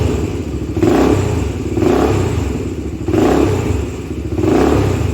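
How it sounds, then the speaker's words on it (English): A motorcycle engine, freshly fitted with a new 9E spark plug, is revved four times in a steady rhythm. Each rise is a loud, raspy surge close by, and between blips the engine falls back to a rough idle. "I'm gonna rev it a little."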